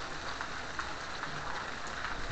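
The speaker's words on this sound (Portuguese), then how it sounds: "Tá muita chuva aqui, viu?" Heavy rain pours steadily in Forquilha, Ceará, a dense, constant hiss of drops drumming on surfaces with no voices over it.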